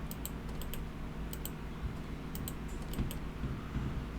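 Computer keyboard and mouse clicking while a chart is edited in the Hangul word processor, a scatter of light, close clicks and taps at irregular intervals over faint room noise.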